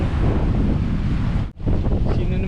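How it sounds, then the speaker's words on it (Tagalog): Strong wind at a lighthouse buffets the microphone with a loud, continuous roar, briefly cutting out for a moment before gusting back in. "Lakas ng hangin"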